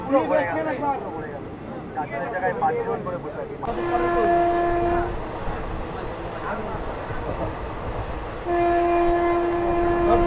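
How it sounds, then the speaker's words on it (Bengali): The 13177 Jangipur Road Express rumbles and rattles as it pulls away from Barrackpore station, sounding two long horn blasts, with people talking at the start. "আমার ট্রেন ছেড়ে বেরিয়ে যাচ্ছে ব্যারাকপুর থেকে"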